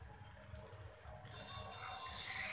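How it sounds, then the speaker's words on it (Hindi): Water pours into a pan of potato and tomato curry, a rushing, splashing stream that grows steadily louder and brighter over a couple of seconds, with no talk. "हम इसमें पानी ऐड कर देंगे।"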